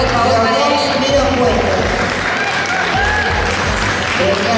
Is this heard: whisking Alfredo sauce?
no